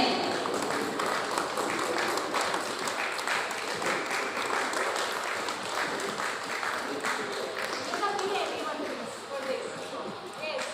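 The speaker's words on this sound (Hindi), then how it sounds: "एक बार हम सब मिलकर के तालियों की गड़गड़ाहट से एकदम भर देते हैं" Audience at an industrial business association event applauding, a continuous wash of many hands clapping at moderate distance, with voices faintly mixed in.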